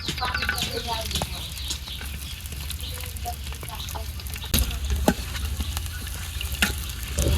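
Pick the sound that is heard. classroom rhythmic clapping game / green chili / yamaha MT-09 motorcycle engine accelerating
green chili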